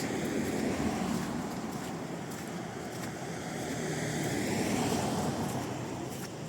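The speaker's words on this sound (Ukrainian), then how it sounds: "Річка Прут." Steady broadband rush of the Prut river flowing past a riverside restaurant area in Yaremche, a continuous even roar with no speech.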